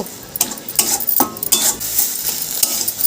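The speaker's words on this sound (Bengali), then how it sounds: "এইবার জলটা টানানো পর্যন্ত এটাকে একদম নাড়তে থাকবো।" Banana flower mash being stirred in a pan until the water dries off, with repeated scraping and clinking of a spoon against the metal and a faint sizzle, close and steady with no speech.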